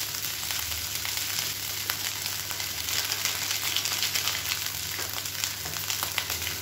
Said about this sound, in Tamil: சேர்த்துட்டு நல்லா ஹை ஃப்ளேமில் சுருள சுருள கிளறி வச்சுக்கணும்